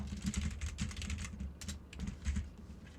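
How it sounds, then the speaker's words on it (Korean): A computer keyboard with something stuck underneath is typed on and rubbed, giving close, steady clacking with a scraping, gritty texture throughout. "키보드 밑에 뭐가 있나? 왜 이렇게 비비적거리냐"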